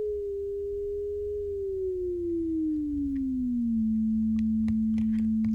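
Pure sine tone built in Max/MSP, starting on A and gliding smoothly downward over a few seconds to settle an octave lower, steady and alone with faint clicks near the end.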